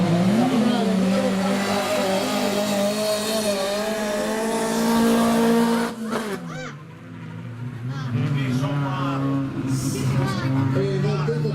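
Race cars in a UISP Trofeo del Nord final at Conselve sweeping toward the last corner, loud sustained engine roar with shifting pitch and a brief dip, under continuous announcer commentary.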